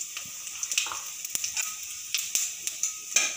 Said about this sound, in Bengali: একটুক্ষণ ভেজে নেব।